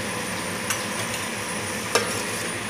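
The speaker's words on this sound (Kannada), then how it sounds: "ಎಡೆ ಮಿಕ್ಸ್ ಮನ್ಪ್ಲೆ" Spices — coriander powder, red chilli powder and turmeric — being stirred into chicken for a fenugreek-leaf gravy, a steady scraping, sizzling texture with two sharp clinks of a spoon against the pan, close and alone.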